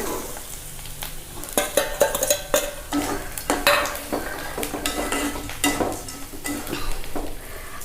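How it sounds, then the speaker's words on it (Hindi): Dried bombil fish frying with green chilli chutney in a pan over a low flame, with a continuous crackling sizzle and frequent spatula scrapes and metallic clinks against the pan, close and fairly loud. "धीमे आंच पे फ्राई करना है बिल्कुल। बोमिल मिला देंगे।"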